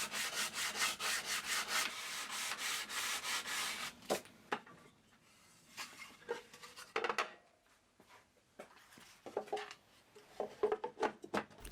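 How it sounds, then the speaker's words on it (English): Sandpaper rubs the corners of a wooden box liner by hand, first in a fast, even series of scratchy strokes, then in slower, scattered rasps and knocks, close and moderately loud. "I'll use some sandpaper to round off the corners of the liner"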